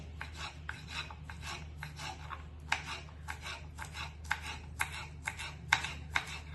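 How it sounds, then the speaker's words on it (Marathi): A knife cuts taro (alu) on a board for a Maharashtrian alu dish, giving a close run of rhythmic rasping, scraping strokes, roughly a dozen in steady succession at moderate volume. "आणि असा हा जो आळू आहे तो आपण असं चिरून घ्यायचा."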